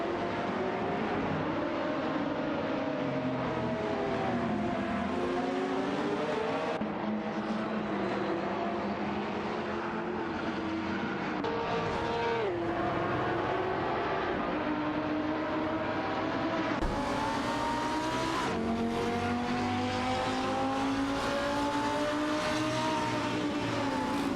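Ferrari race cars roar through an AI-driven racing video game, a continuous layered engine whine that swells and dips in pitch as the cars accelerate and shift, with no voices over it.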